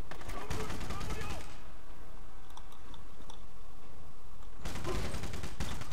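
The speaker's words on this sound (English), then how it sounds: "Oh man, this gun is epic. And it sounds so good" Gunfire from a gun in the shooter video game Rogue Warrior, dense rapid bursts at the start and again near the end, separated by a quieter stretch with faint clicks.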